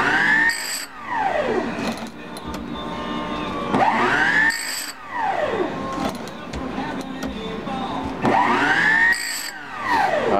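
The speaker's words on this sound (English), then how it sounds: "You can see by the sparks there's going to be very little of this tooth taken off." A bench grinder sharpening a single chainsaw chain tooth whines in repeated rising and falling sweeps, each pass of the wheel sounding as a distinct surge against a steady motor hum.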